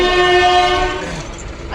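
A departing train rolls along with a sustained horn-like tone at first, which fades into lower rumbling and rail noise, fairly close and loud.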